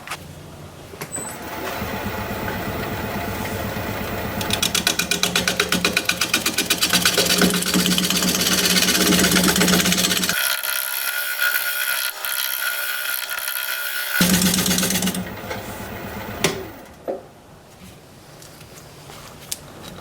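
Scraper cutting a punky Gravenstein apple wood bowl spinning on a lathe, a continuous rough scraping whir with a steady motor hum, shifting in tone midway, then the lathe winding down and stopping.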